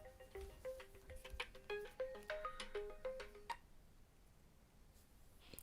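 A phone ringtone plays a quick melodic pattern of bright repeated tones for about three and a half seconds, then stops, leaving quiet room tone.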